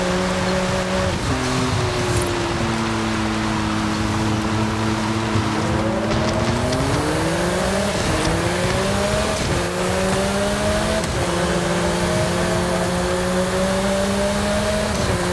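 McLaren Artura engine in Forza Horizon 5 droning steadily at moderate volume, with pitch rising and falling through several gear changes as the car accelerates, continuous and without talk.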